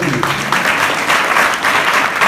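Audience applause from a crowd at a talk or gathering, a dense steady patter of many hands clapping close by throughout the short stretch, with no voices over it.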